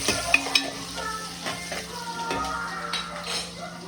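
Onions frying in a home kitchen pan, a steady crackling sizzle with a couple of sharp metallic clinks and scraping stirs of a spoon against the pan, close and moderately quiet.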